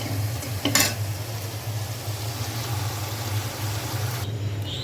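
Boiled jute leaves fry with onion and garlic in a pan, giving a steady moderate sizzle with a brief clatter of stirring early on and a low hum underneath, no talking.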